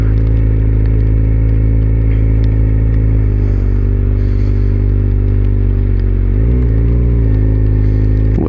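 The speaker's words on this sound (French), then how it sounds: "là je suis en mode pluie, donc vraiment j'ai tout pour que la moto soit douce le plus possible" A sport motorcycle ridden smoothly in rain mode, its engine a loud steady drone close to the rider with a brief dip and rise in pitch partway through, no talk.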